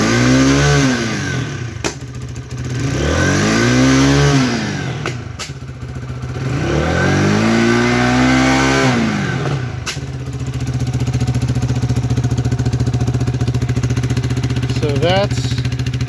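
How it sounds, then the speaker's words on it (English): An Xpro EFI Falcon 250 motorcycle, a 250 cc engine, revs up three times in rising and falling sweeps from a steady idle, then settles into a continuous close idle. "somebody had asked me to rev it up"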